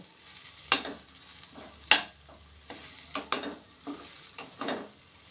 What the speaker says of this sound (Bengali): ধনিয়ার গুঁড়ো আর দেব জিরের গুঁড়া দিয়ে ভালোভাবে নেড়েচেড়ে নেব।